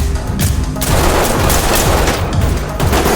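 Dense gunfire in the tactical shooter Ready or Not during a raid on a neon-lit nightclub, loud overlapping bursts and single shots rattling continuously with booming reports throughout.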